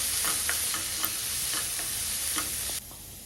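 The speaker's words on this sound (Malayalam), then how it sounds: "എന്നിട്ട് അത് ഒരു ലൈറ്റ് ബ്രൗൺ ആവുന്നവരെ സോട്ട് ചെയ്യും." Onion sautéing in a pan for green papaya thoran, a steady close sizzle and fry with soft stirring scrapes at regular intervals, cutting off sharply near the end.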